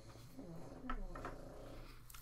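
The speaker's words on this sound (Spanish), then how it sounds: "El ruido que suena sigo avisando que es mi perro." A dog growls low and rumbling at close range, a continuous throaty sound with no talking over it.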